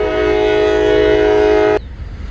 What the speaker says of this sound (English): Got a train going through.